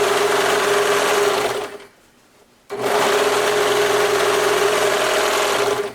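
A serger runs fast and steady, finishing the raw edge of fabric for a face mask, a loud close mechanical whir that cuts out briefly for about a second, then resumes at full speed.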